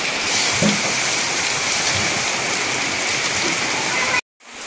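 Heavy rain pours down in a dense, steady hiss close by, drumming on surfaces without letup until it cuts off abruptly near the end.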